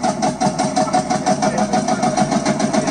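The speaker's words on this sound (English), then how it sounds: "This is a field marshal tractor, and they needed a shotgun shell to start the engine." A Field Marshall tractor's single-cylinder engine, started with a shotgun shell cartridge, runs with a steady rhythmic chugging thump, close and fairly loud, with no talk over it.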